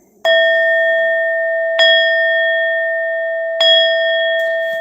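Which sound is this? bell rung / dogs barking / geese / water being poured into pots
bell rung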